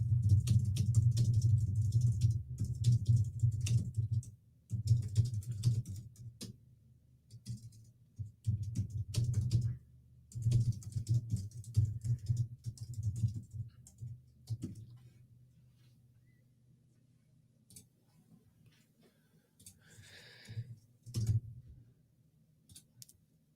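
Keys clatter on a computer keyboard in bursts of fast, close clicking while a comment is typed, with short pauses between runs and a low hum underneath.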